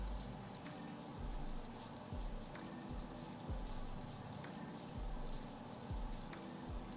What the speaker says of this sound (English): It's raining like a motherfucker out here.